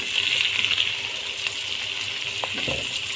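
Water runs steadily from a tap at moderate volume, with faint clinks and small kitchen knocks near the end.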